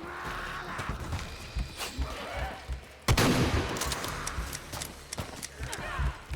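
Gunfire in the video game Shadow of the Tomb Raider, with a loud shotgun blast cutting in midway through a busy, dense mix of game noise, thuds and scattered shots.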